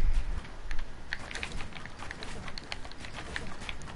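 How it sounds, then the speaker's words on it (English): Quick, light taps on a computer keyboard, repeated in a fast, fairly even patter. The keystrokes are fairly quiet and close, with no one speaking. "If you just keep typing one letter over and over."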